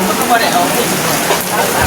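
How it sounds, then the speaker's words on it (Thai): Heavy rain pours steadily during a Lao Buddhist Lent alms-giving ceremony, a dense, even hiss that fills the short stretch. "ฝนตกนะ"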